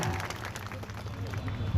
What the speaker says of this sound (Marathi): त्यांच्यासाठी एकदा जोरदार टाळ्या मारून त्यांचं अभिनंदन करा.